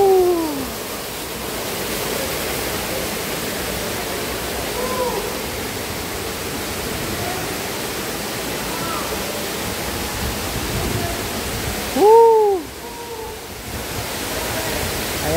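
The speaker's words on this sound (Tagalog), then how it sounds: "Many falls." Waterfall in an eco-tourism villa setting, a steady broad rushing roar throughout, fairly close and loud, with brief faint voices and a short louder bump near the end.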